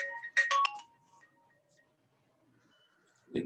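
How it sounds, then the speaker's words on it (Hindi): A phone ringtone plays a bright, quick melodic burst of tones up close, then trails off into faint lingering notes and near silence, followed by a brief low thump at the end. "एक मिनट, फोन आ रहा है कई बार।"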